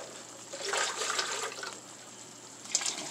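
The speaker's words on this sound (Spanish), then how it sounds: "Voy a ponerle poquita agua para enjuagar." A little tap water runs into a blender glass to rinse it in a kitchen, a soft steady splashing stream that swells briefly and ends with a brighter gush.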